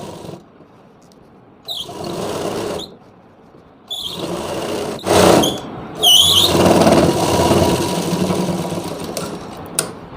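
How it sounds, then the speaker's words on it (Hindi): Electric sewing machine running in short stitching bursts on a Rajputi lehenga, a loud whirring motor with high squeal starting and stopping several times, pausing between runs, close and alone. "अब दोस्तों हमें यहाँ पे नेपे पे हमें यहाँ पे एक बूट की सिलाई और लगा देनी है।"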